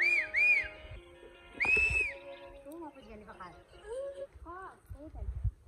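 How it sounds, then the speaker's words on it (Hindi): A person whistles to call goats on a hillside, sharp rising-and-falling whistle notes repeated several times, with other whistles and voices talking around them outdoors. "बकरियों को बुला रहे हैं सीटी लगा के।"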